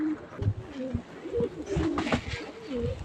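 Pigeons coo in soft, repeated low throaty phrases close by, with a few faint bird sounds and some background rustle mixed in.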